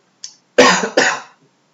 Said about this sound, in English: Sorry, I still have the cough.